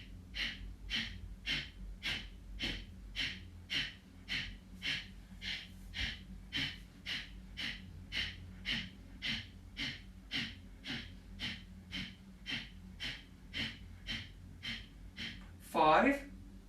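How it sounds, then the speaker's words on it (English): Forceful, rhythmic yoga breath exhalations pumped out through the body, about two per second in a steady train of sharp bursts, close and alone, ending in a louder deep exhale. "let's begin to pump the breath out the body"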